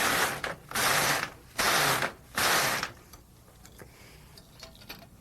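An LK150 knitting machine carriage sweeps back and forth across rows in three loud, rasping passes with brief pauses between, followed by quieter faint clicks and ticks, close up with no voices.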